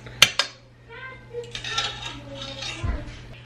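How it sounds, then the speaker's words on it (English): Utensil clinking sharply against a dish twice as a mixture seasoned with nutmeg and cayenne is stirred, followed by softer scraping and light clatter up close. "And stir that up again."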